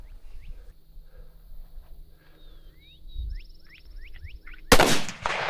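A single sharp, loud rifle shot from a Savage 110 Scout chambered in .308 cracks out near the end, following several seconds of quiet outdoor ambience with birdsong.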